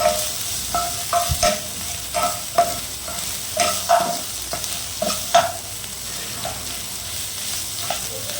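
Hot oil sizzles in a pan while a spoon stirs the base of an egg curry, with repeated scraping knocks against the pan over a steady crackle. No voices are heard.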